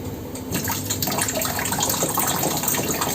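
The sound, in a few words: water being poured into a Blue Star desert cooler's tank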